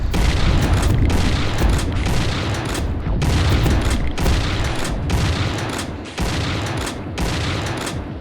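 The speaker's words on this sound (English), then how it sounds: "And this must be our shotgun." Shotgun fire in the Doom 2 total conversion Shrine: a rapid series of heavy booming blasts, each followed by a short decay, repeating roughly every second, loud and dense with no speech.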